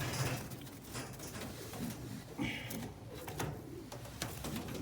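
A pied blue bar Indian Fantail cock pigeon coos softly in short, low bursts over faint background noise and shuffling, close by with no talking.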